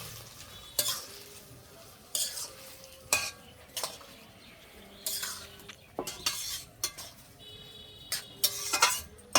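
A few garlic cloves go into a simmering village-style curry and a metal spoon stirs the pan, producing repeated sharp scrapes and clinks over a low frying sizzle, close and uneven in rhythm.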